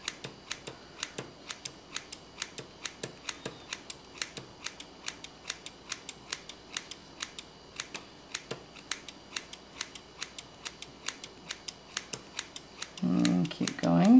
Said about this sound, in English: you're just clipping into so you just keep cutting about halfway in